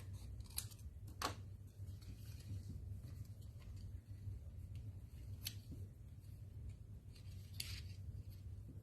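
Scissors snip through paper while cutting out banana shapes for handmade cards, a few sharp close cuts over a low steady background hum.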